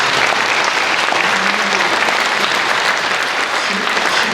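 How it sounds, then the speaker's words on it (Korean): An audience at a church commemoration for Syngman Rhee's birth anniversary claps for two vice-chairmen, a loud, dense, even roar of applause throughout. "김유광 부회장 그리고 조보현 부회장 두 분께 박수"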